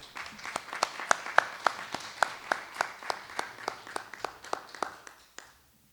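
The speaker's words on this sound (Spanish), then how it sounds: "a quien le pedimos un aplauso también" At an agrarian rights forum in Mexico, quiet, sparse applause sounds as a series of distinct, fairly regular claps for about five seconds before stopping abruptly.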